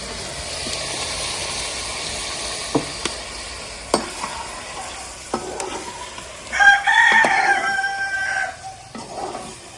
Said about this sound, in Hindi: मुर्गा बता रहा थोड़ा सा टाइम रह गया है।